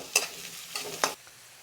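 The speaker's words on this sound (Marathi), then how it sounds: "1 चमचा होईल एवढ्या लसणाच्या पाकळ्या आहेत त्या. आता त्याला 1 मिनटं फ्राय करून घ्यायचं आपल्याला." Garlic cloves fry in a pan with a few sharp sizzling bursts as they are stirred, short and close, then fading to quiet.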